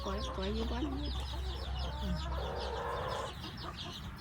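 Chickens on a garden farm cluck and call close by, a burst of rising clucks at the start followed by softer murmuring clucks, with some background noise.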